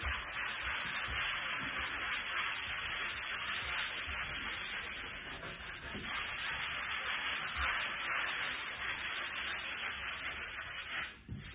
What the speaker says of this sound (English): So everything is sanded smooth.